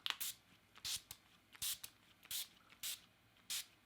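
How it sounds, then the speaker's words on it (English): NYX Matte Finish setting spray pumped onto the face, six short sharp hissing spritzes in an even rhythm, close and clear with quiet pauses between. "The one that I'm going to be using is the NYX Matte Finish setting spray."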